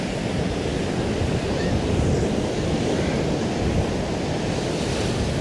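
Sea waves crashing on the shore at Blackpool, a continuous loud roar of surf mixed with wind buffeting the microphone, with no talk.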